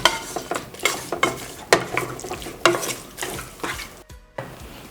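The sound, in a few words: mixing mutton with salt and ginger garlic paste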